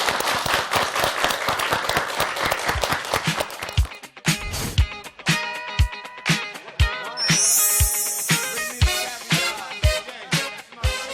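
A studio audience on a Korean morning talk show applauds as a guest speaker is invited up. Dense clapping fills the first few seconds, then thins into scattered claps beneath a bright musical jingle.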